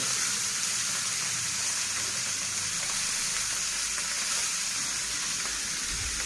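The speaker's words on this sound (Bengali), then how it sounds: "লাল লাল করে ভেজে নেব। মাছ ভেজে তারপরে আমি উচ্ছেগুলো ভেজে নেব।" Parshe fish frying in oil in a pan, a steady, dense, loud sizzle that holds without a break throughout.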